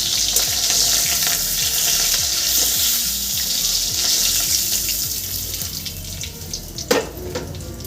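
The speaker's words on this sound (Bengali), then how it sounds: "দুপিটি মাছ আমার ভাজা হয়ে গেছে এবার তুলে নেব" Pieces of katla fish fry in oil in a pan, giving a steady loud sizzle throughout with a brief clatter near the end, and no voices.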